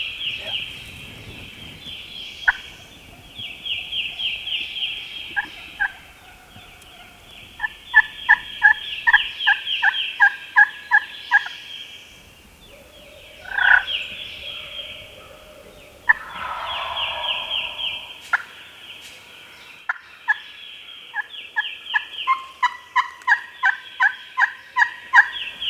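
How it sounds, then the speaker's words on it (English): Several wild turkeys gobble repeatedly nearby during a spring hunt in Mississippi, their loud rattling calls bursting out in bunches over a steady background of chirping birdsong. "they hear what they believe is multiple turkeys gobbling right out in front of them"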